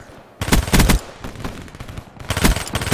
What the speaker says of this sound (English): There is some recoil when you shoot, because it tends to want to go up whenever you shoot this gun, the submachine gun on the Vesper.